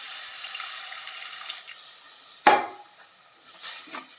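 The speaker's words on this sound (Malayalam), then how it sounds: "ഈ പുളി വെള്ളം അതിലോട്ട് ഒഴിച്ചു കൊടുക്കാം." Tamarind water is poured into a hot pan of cooking food, giving a sudden splash and sizzle midway over a quiet frying hiss, followed by fainter bubbling and sputtering.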